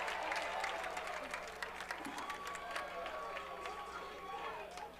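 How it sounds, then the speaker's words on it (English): Lacrosse crowd at a men's college game cheering and applauding a player's effort, a broad wash of claps and shouts, fairly distant and steady, with commentary over it. "the crowd let Langemeyer know they were excited about his effort"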